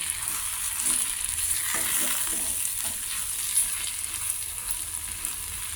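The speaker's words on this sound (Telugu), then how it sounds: "ఓ స్పూన్ కొద్దిగా కారం బాగా మిక్స్ చేసుకోవాలి" Cucumber curry with chilli powder and poppy seed powder sizzling in a pan while being stirred, a steady close frying hiss with a few soft scrapes of the spoon.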